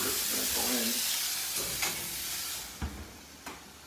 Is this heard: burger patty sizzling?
yes